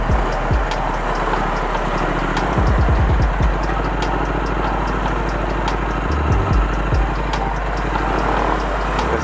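A Triumph Thruxton motorcycle idles in central London traffic, its low, steady engine rumble running loud and close throughout. A few soft thumps and clicks sit on top, and street noise carries faintly behind.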